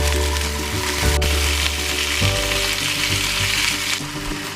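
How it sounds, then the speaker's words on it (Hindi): Loud, steady sizzling of capsicum, corn and tomato frying in hot ghee, with occasional stirring scrapes and a sharp click early on. "तो अब हम इसमें ये शिमला मिर्च, कॉर्न और टमाटर तीनों चीजें डाल देंगे।"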